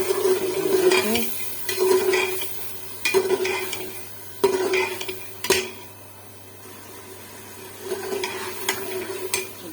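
Potatoes being stirred into a spiced masala in a cooking pot for a desi saag methi palak dish, with repeated scraping spoon strokes against the metal pot over a steady sizzle, close and clear with no talk.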